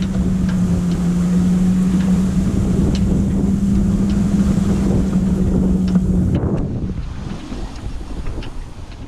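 A sailboat's auxiliary motor drones steadily at sea under loud wind buffeting, a constant low engine hum that cuts out partway through, leaving wind and water noise alone.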